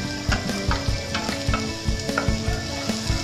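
Garlic sautés in a pan, a steady close sizzle broken by repeated rhythmic scraping and stirring strokes of a utensil, loud and with no talking.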